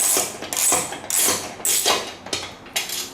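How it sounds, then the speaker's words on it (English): A hand ratchet with a 12mm socket clicks in repeated bursts while backing out a seat bolt on a Honda VTX 1300R motorcycle, about six sharp close-up swings of rapid pawl clicks at an even pace, no talk. "12mm socket."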